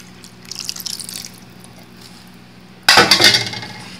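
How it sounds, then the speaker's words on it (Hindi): Water is poured from a glass into a pot of chicken yoghurt curry in a home kitchen, a sudden loud splashing rush near the end after quieter clinks and stirring. "आधा ग्लास पानी मैंने दही में फेंट कर डाला था और ये आधा ग्लास और मैं डाल रही हूँ।"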